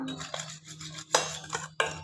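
A metal spoon scrapes and clinks against a pan in a few short strokes while stirring roasted peanuts, close by, with no talking.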